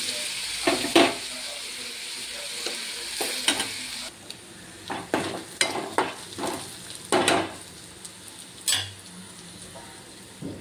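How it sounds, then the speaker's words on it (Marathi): Onions and potato frying in a pan for a village-style onion sabzi, with repeated scraping stir strokes and clinks of a spatula over a steady sizzle, close and fairly loud, alone without talk. "हा असा थोडा ब्राऊन कलर येईपर्यंत मस्त भाजून घ्यायचा आहे।"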